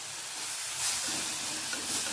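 Tamarind water poured into hot oil in a cooking pan gives a steady, close sizzling hiss with small swells of bubbling and steam.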